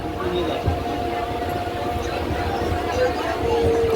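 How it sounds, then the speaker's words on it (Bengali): A train creeps along very slowly, giving a steady low rumble with faint tonal whines, heard close and continuous under a light background of voices. "ট্রেনটা খুব আস্তে আস্তে চলছে"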